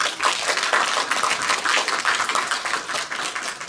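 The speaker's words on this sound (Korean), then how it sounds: "박수 한번 부탁드리겠습니다." Audience applause at a Korean speech contest, dense and steady clapping from a crowd filling the hall at even loudness throughout, with no voices over it.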